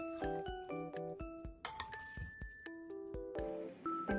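A spoon clinking against a bowl or glass dish while turmeric and black pepper are stirred in, a quick run of bright, ringing taps, fairly close and quiet, with no talk.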